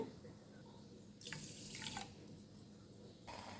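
Water runs from a tap in two short bursts while making sugar syrup for sweet gavvalu, a soft splashing that starts, pauses briefly, then resumes, fairly quiet with no talk.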